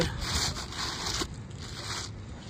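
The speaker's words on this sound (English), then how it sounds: "We're gonna try to slide our new shingle in and see if anything gets in the way." A new roof shingle scrapes and rubs as it slides into place during a shingle repair, a close, continuous rasping sound in short bursts.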